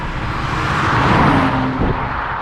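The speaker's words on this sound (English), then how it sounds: "Smooth inline 6. This is the twin turbo, right?" Steady, loud hum of a BMW N54 twin-turbo inline-six engine running, a smooth continuous drone with a slight swell midway and no talking.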